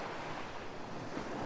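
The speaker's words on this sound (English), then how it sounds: "all I got is fucking waves hitting over here next to me." Waves washing against the shore in the game ArmA 3, a continuous soft rushing surf with a windy hiss, fairly faint and unbroken.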